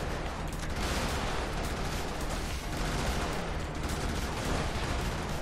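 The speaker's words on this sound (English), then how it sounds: "this is a scatter laser here. A little bit like a shotgun, actually" A mech's shotgun-like scatter laser firing in the game Brigador, a dense, loud, continuous barrage of crackling blasts and explosions with no pause across the stretch.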